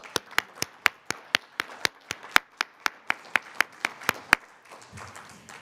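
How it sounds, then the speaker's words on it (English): At a summit, rhythmic clapping rings out as about seventeen crisp, evenly spaced claps over four seconds, fairly close, then stops and leaves a faint low rumble. "I would like to give a big round of applause with your support for the AlBaraka team"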